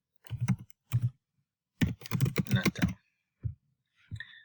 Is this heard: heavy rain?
no